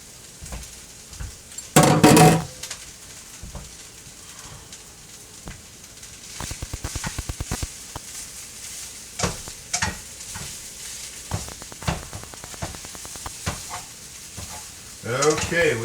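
Kimchi and bacon fried rice stirs and sizzles in a hot skillet, with scraping and clattering as it is tossed, a steady fry under occasional sharp bursts and no talking.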